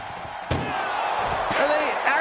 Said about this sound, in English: Power bombed into the ambulance.